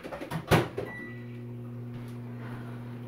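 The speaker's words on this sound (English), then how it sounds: "we're gonna actually put this in the microwave on high for 1 minute" A microwave oven set on high heating cream cheese starts up after a door slam, then settles into a steady low electrical hum with a faint fan drone that runs on evenly.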